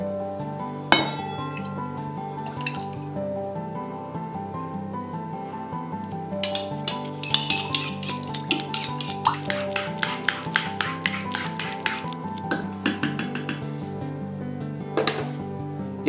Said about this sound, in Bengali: একটি বড় পাত্রে ঢেলে নিন ডিমের সাদা অংশটুকু, তাতে মেশান নুন, তারপর ভালো করে ফেটিয়ে নিন।